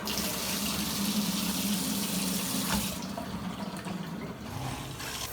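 Water streams from a newly installed Delta shower head, a steady broadband hiss that runs continuously and close, dropping slightly in level partway through.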